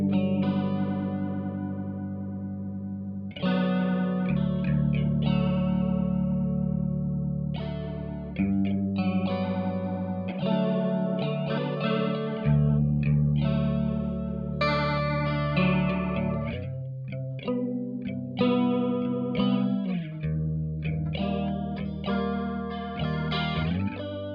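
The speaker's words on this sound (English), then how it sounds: "These can be really interesting, kind of a more modern, weird chorus sound" Guitar-like chords run through a modern chorus effect with odd modulation waveforms, a wobbling, fluttering pitch shimmer over sustained notes and slow phrases, clear and alone with no talking.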